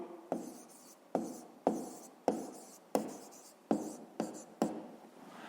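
Pen strokes scratch across paper while working a fifth-grade maths exercise, eight short bursts in a steady rhythm, each a sharp scrape fading out, close and quiet with no talk.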